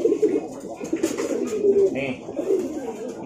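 Racing pigeons coo in soft, low, repeated rolling calls close by, with a voice talking quietly at times under them.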